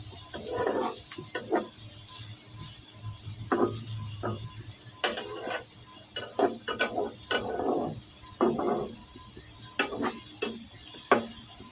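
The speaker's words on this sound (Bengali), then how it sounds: "এখন নেড়ে চেড়ে ঢেকে সিদ্ধ করে নেব" A spatula stirs breakfast food in a pan before it is covered to boil, giving repeated scraping, clacking strokes at an irregular rhythm over a steady low sizzle, close and fairly clear, with no talking.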